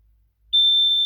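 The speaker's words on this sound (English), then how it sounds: "Any minute now, the panel will start beeping continuously." A fire alarm control panel enters pre-alarm during a system test: quiet at first, then a single sustained high electronic beep starts abruptly and holds steadily, loud and close.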